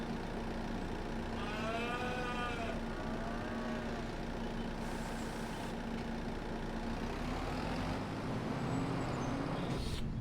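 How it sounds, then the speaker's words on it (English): Cows in the Farming Simulator 25 video game give several drawn-out moos, near and fairly loud, over a steady low engine drone. A second, fainter lowing comes later in the clip. "Cows are very noisy, aren't they?"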